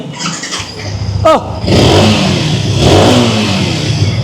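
A 2021 Indonesian-model Yamaha R15 V3 motorcycle engine, used with about 19,000 km, revs up sharply with a squealing rise, then holds a loud, close, rough mid-pitched drone.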